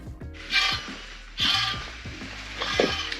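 The disc brake rotor on a Lectric e-bike rubs as the wheel spins, giving three faint scraping swishes that repeat in a slow rhythm, with soft mechanical ticks between them in a quiet workshop.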